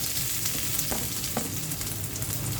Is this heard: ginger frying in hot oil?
yes